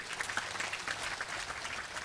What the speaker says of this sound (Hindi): ताली बजाइए अपने लिए।